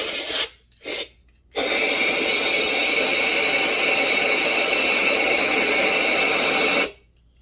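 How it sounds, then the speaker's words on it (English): An air hose blows compressed air through a Stihl MS 291 chainsaw muffler, giving two short hissing bursts and then one long, loud, steady rushing blast of about five seconds that cuts off abruptly. "I just take the air hose and blow it."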